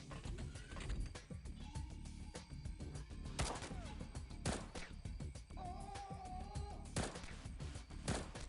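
Cannon fire and mechanical clanks in the pirate strategy game XPiratez, a busy layer of ratcheting, creaking, gear-like sounds broken by several sharp booming shots at intervals, fairly loud and steady with no talk.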